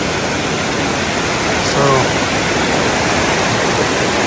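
Steady rushing water from feeder streams along a downhill trail toward a waterfall, a loud broadband wash filling the whole stretch, with a brief spoken word near the start.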